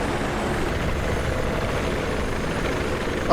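A helicopter flies in the video game Battlefield 3 running on Venice Unleashed, its steady rotor and engine drone constant and moderately loud throughout, alone with no voices.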